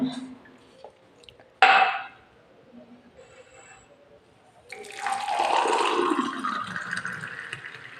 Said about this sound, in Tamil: இப்போ கிளாஸில் ஊற்றிடலாம்.